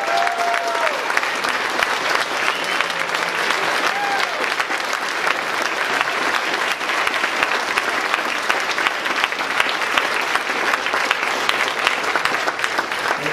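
Sustained applause from an audience at a Democratic Party fundraiser, a dense, steady clatter of many clapping hands that holds evenly loud for the whole stretch without letup.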